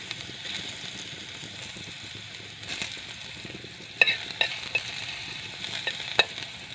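Ginger added to a pan and sautéed for crab cooked in coconut milk, a soft, steady sizzle with stirring scrapes, then several sharp pops and crackles near the end.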